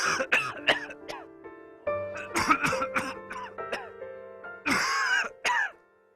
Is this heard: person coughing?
yes